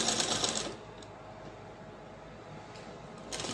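A sewing machine runs briefly while stitching a half-inch seam on an umbrella circle skirt. A short, fairly faint burst of whirring starts and then stops, a quiet room hum lingers, and a second short burst comes at the end.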